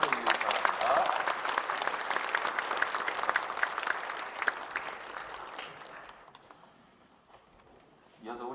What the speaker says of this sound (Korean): 인사하고 들어갈 때 큰 박수를 주시기 바랍니다.